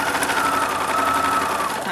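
A sewing machine stitches quilt fabric pieces, a fast, even mechanical whir with steady rapid needle ticking running close and continuously throughout.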